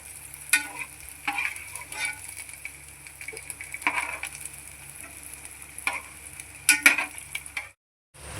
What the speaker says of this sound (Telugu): ఈ కలర్ వచ్చేటట్టు వేపుకుంటే చాలండి ఎండు చేపలు